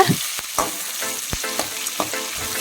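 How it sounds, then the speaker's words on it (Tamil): Small onions (shallots) sizzle steadily in hot oil in a pan while a spoon scrapes and stirs with sharp periodic clatters, close and fairly loud, for a village chicken curry. "நான் ஒரு இருபது சின்ன வெங்காயம் கிட்டே சேர்த்துருக்கேங்க அதையும் நல்லா வணக்கிக்கோங்க"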